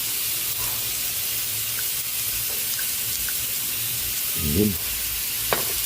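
Chicken sautés in a pot for Filipino chicken tinola, with a continuous close sizzle, a few utensil clinks and scrapes, and a brief spoken word.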